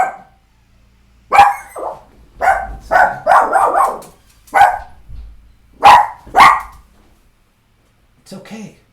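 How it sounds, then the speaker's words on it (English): A dog barks in short bursts in the background of a home workshop setting, several separate barks spread over a few seconds, fairly close and loud, with a brief softer whimpering sound near the end. "Got my dog in the background"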